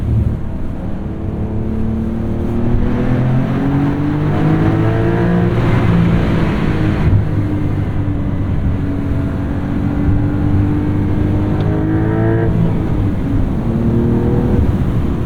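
A 2023 Porsche 911 Carrera T's 3-liter turbo engine revs hard toward about 7,000 RPM and climbs through the gears, a loud, continuous roar rising and falling in pitch, close up with no talking.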